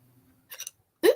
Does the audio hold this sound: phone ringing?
no